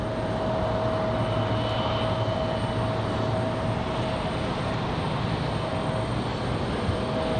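A Cessna light aircraft with a landing gear problem makes another low pass over runway 23 right at Raleigh-Durham airport, its engine a steady, fairly distant broadband drone with a faint tonal hum, unbroken and without voices throughout.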